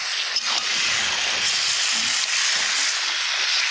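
Meat sizzling in hot oil with spiced masala, stirred in a pan while a large batch of curry cooks; a steady, dense hiss continues throughout with no talking.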